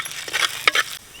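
Chana dal crackles briefly in hot oil for a tempering, with a couple of short sizzling bursts and a faint stir, close and quiet.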